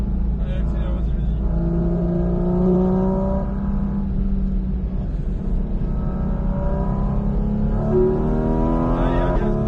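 A Porsche 718 Cayman GT4 RS accelerates hard on a race circuit, its engine note climbing steadily through the revs and staying loud and close throughout, with a driving instructor talking over it.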